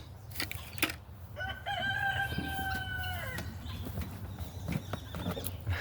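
Miniature horses whinny in a long, wavering call amid farmyard noises, with a rooster and other animals nearby.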